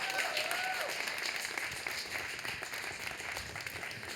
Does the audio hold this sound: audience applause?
yes